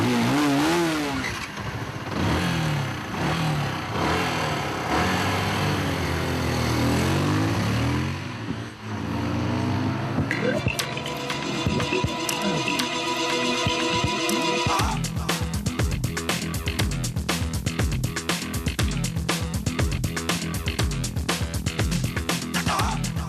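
Motorcycle engines of a Bajaj Pulsar 220 and a Yamaha R15 run steadily with repeated revving, loud and close, a dense continuous drone that shifts into sharper, rapidly pulsing engine notes partway through.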